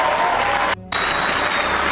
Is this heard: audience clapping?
yes